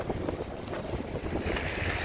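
Strong wind roars across a Chicago street during a snowstorm, buffeting the microphone with a steady, loud rush that never lets up.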